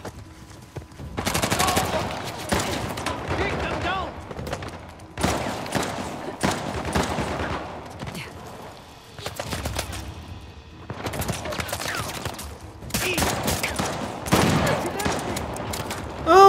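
Bursts of rapid gunfire and automatic weapon volleys in the video game Uncharted: The Lost Legacy, loud and close in repeated clusters separated by short lulls, with brief voices in between.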